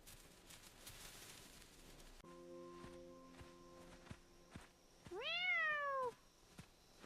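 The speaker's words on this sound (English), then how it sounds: "Meow." A cat meows once, loudly and up close, as a drawn-out rising-and-falling call near the end, after soft footsteps and light rustling in a jungle setting.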